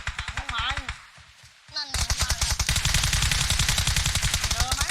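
PUBG Mobile gunfire crackles in bursts under an excited voice, then a short lull and a muffled thud before a loud, dense stream of rapid shots takes over for the rest of the stretch.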